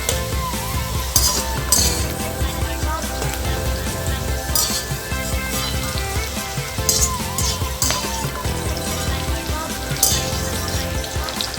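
Capsicum and chilli fry in a pan with a continuous loud sizzle, joined by occasional clinks and scrapes from a utensil stirring them, with no talking.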